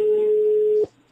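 A steady electronic telephone line tone in the Rusty Lake Hotel video game, holding one pitch loudly for nearly a second before cutting off abruptly, leaving near silence.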